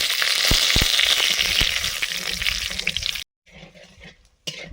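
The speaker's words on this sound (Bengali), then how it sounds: "এবার একটু কালো জিরে শুকনো লঙ্কা আর তেজপাতা দুটো দিয়ে দিলাম" Nigella seeds, dried chillies and bay leaves sizzle loudly in hot oil, a steady crackling fry that cuts off abruptly, then returns faintly before a sharp sizzle resumes.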